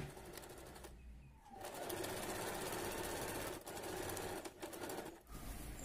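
A sewing machine stitches a churidar in fast, steady bursts, pausing briefly near the start and twice more later, close and clear with no talk.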